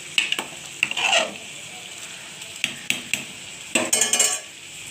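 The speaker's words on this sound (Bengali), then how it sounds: "এবার আমার চিংড়ি মাছটা ভালোভাবে ভেজে নিয়েছি" Shrimp fry in mutton fat in a pan with a steady hiss, broken by several sharp clanks and scrapes of a utensil against the metal.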